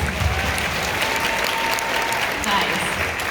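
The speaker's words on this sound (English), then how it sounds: "Let's give her a round of applause." An audience at a kickoff meeting gives a steady, dense round of applause that holds evenly for a few seconds, with no pauses.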